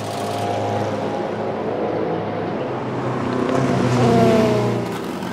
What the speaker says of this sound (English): And there goes the Toyota, number 8, through into the lead